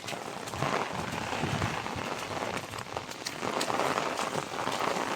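Heavy monsoon rain in Konkan pours down steadily, a dense, loud hiss of drops drumming on surfaces close by, with no pauses.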